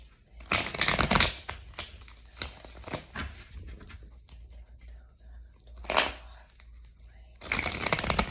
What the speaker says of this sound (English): I'm going to shuffle your cards to get the energy out of them.